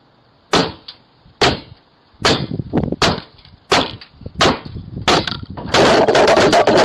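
Hard blunt object, a hammer or broom handle, whacking a Ring doorbell camera: a string of sharp, loud impacts with short gaps, growing denser and messier toward the end.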